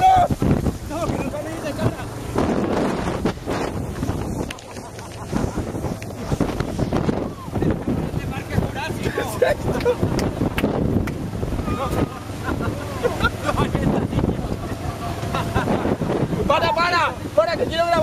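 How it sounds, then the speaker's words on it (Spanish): Strong wind buffeting a boat at sea during a Valencian storm, roaring steadily into the microphone over sloshing water, while people shout and talk excitedly throughout. "¡Qué viento!"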